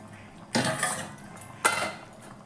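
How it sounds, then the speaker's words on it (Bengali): A metal lid lifted off a pot of simmering rohu fish curry with papaya, two clear clanks about a second apart against a quiet kitchen background. "ঢাকাটা খুলে নেব।"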